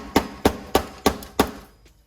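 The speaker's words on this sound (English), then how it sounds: "I'm gonna go ahead and use my hammer to punch out" A hammer strikes a metal knockout on an electrical box five times in steady rhythm, each blow sharp and close, followed by a faint final tap as the slug gives way.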